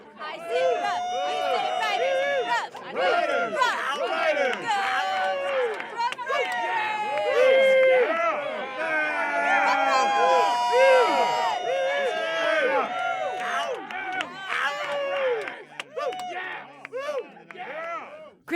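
Halftime cheer squad performing amid a noisy crowd, with shouted chants, whoops and excited voices layered over a continuous babble of spectators.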